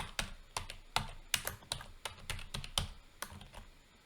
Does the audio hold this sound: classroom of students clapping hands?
no